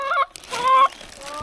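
Backyard chickens give a few short, nasal, honking clucks close by in quick separate bursts, with brief quiet gaps between calls.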